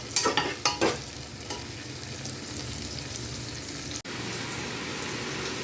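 Tomato and spices sautéing in a pan for a dhaba-style chicken curry give a steady, dense sizzle. A few stirring scrapes at the start sit over it, with no voices.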